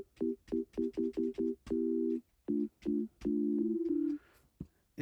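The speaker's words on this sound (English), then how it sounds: "you can hear a sine wave" Synthesized sine wave tones from a custom software instrument, clean pure beeps played in a quick run of short notes, then longer held tones and a final sliding pitch, moderately quiet and alone.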